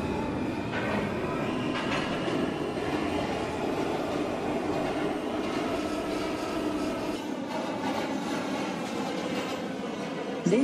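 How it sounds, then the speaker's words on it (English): Steady loud rumble and rattle inside a Brooklyn-bound L subway train in New York as it rides between stations, with faint clatter and brief squeals over the continuous roar. "This is a Brooklyn-bound L train."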